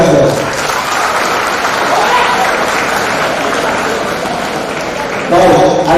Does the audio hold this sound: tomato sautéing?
no